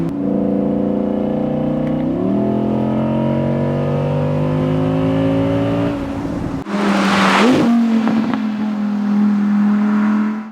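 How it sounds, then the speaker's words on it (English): An Audi R8 V10 Performance Spyder's V10 engine revs loudly, pitch climbing through gear changes, then a burst of rushing noise before settling into a steady drone. "Even if I really get off throttle, the engine noise is still there. It's louder."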